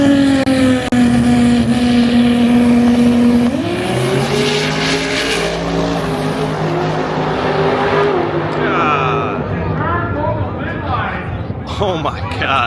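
Drag racing cars at a street car takeover, high-revving engines screaming loudly and shifting pitch, with a sustained roar that climbs and falls and a crowd or voices in the mix.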